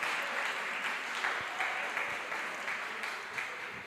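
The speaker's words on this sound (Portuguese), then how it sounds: "Uma linda salva de palmas." Applause from a church congregation welcoming their pastor during an evening youth worship service, a steady wash of many hands clapping at moderate distance, sustained evenly throughout with no voices over it.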